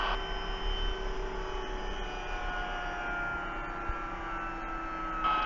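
An MD500 helicopter sits on a boat deck after landing, its turbine engine settling to idle with a steady whine and low hum that holds evenly throughout, with no talk.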